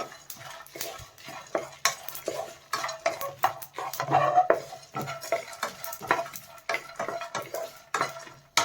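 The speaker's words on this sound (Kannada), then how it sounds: "ಇದನ್ನು ಸ್ವಲ್ಪ ಗೋಲ್ಡನ್ ಬ್ರೌನ್ ಕಲರ್ ಬರೋ ತನಕ ನಾವು ಚೆನ್ನಾಗಿ ಹುರ್ಕೋಬೇಕು" Sliced drumstick pods are stirred and roasted in a pan until golden brown, with frequent close scraping and metallic clinks of a spoon against the pan over a soft sizzle.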